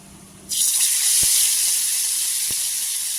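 Chicken pieces hit hot mustard oil on a tawa, setting off a sudden loud sizzle that holds as a steady close hiss, with a couple of soft knocks.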